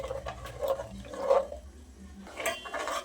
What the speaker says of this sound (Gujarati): એક ઉભરો આવે ત્યાં સુધી સતત હલાવતા રહીશું।